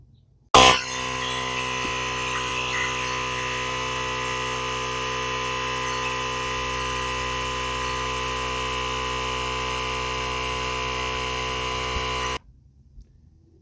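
A RICWIT jump starter's built-in air compressor inflates a car tire, giving a steady, loud electric motor hum with a buzzing drone that runs unbroken for about twelve seconds, then cuts off abruptly when it shuts off automatically.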